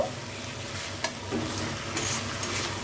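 Previously fried potatoes being stirred with spices in a hot pan for paneer biryani, a continuous sizzle broken by a few sharp scrapes and clinks of the spoon against the pan.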